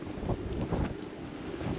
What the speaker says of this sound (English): This is definitely way more windy than was forecast.